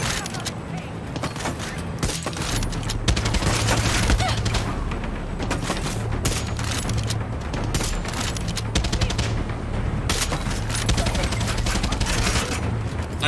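Sustained light-machine-gun fire in Far Cry 6, dense rapid bursts of shots running nearly nonstop at close range with a low rumbling bed and brief pauses between strings.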